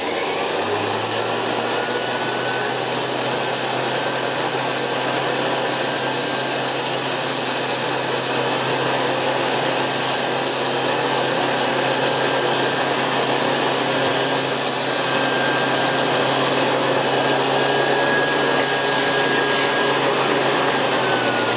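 A refurbished Hoover Model 725 vacuum cleaner of 290 watts runs continuously at close range, a steady motor drone with a whining tone and constant airy rush, no one talking.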